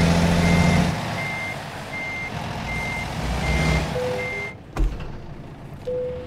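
Reversing beeps from a truck backing up to hook a trailer in American Truck Simulator, a steady run of evenly spaced electronic beeps over low engine rumble, ending with a short hiss and thump.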